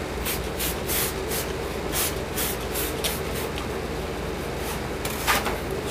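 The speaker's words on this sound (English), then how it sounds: "spray this with a little water" Water is spritzed onto a model airplane wing before gluing: a string of quick, hissy bursts from a spray bottle at an uneven pace, close by and fairly loud, over a steady background noise.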